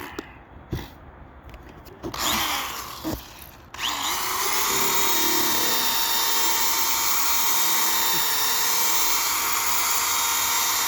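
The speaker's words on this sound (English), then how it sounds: "that's just running each side with the 1500 grit" A power sander works a dome surface with 1500-grit paper, starting with a few handling knocks and short bursts before settling into a loud, steady, high-pitched whirring hum that runs on without a break.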